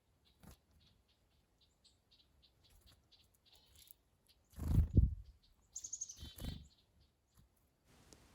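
Chickadees and other small birds chirp around a log in the woods, with scattered faint calls and a couple of louder rustling flutters close by.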